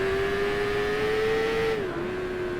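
Low-power motorcycle riding through the S curves at Suzuka circuit, its engine holding a steady, loud, near drone that dips briefly in pitch as the rider eases off and then settles again.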